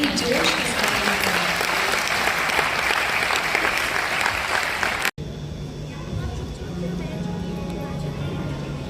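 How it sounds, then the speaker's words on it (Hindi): Dense audience applause fills an auditorium in a steady, loud roar of clapping, then breaks off sharply and gives way to a quieter room ambience with murmuring voices. "हम चाहते हैं कि आपकी तालियां उन तक पहुंचे"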